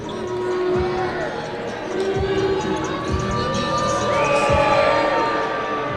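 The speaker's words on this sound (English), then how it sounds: "booing the other team on the free throw line" A basketball crowd jeers while the opposing team stands at the free throw line. The sound is a sustained, dense wall of many voices with a few sharp ball bounces under it.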